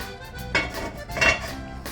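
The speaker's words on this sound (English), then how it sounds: "we're going to put it inside your pot, and you're going to put the lid on it" A lid set onto a Dutch oven pot holding a loaf of artisan bread dough, giving two clanks of metal on metal about a second apart, close and fairly loud, with no talk.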